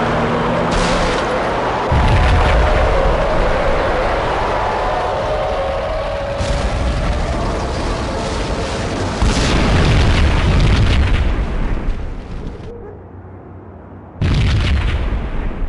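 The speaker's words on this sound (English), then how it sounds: "Another bomb exploded inside the closest slum building." In the Max Payne game, a bomb goes off inside a slum building. It gives several heavy, close booms and rumbling blasts, then a sudden quiet and a final burst.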